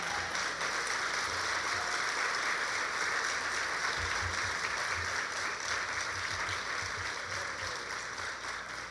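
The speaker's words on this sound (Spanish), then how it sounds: "Como sé que ese aplauso es para el Señor, que sea más fuerte." Steady, sustained applause from a church congregation during a Sunday service, dense even clapping that fills the room at moderate distance, with a few low thumps underneath and no talk.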